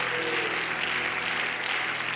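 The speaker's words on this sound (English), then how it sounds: "Let's give the Lord a hand clap of praise tonight." Church congregation clapping in praise during an evening service, a steady, dense wash of hand claps continuing throughout with no pauses.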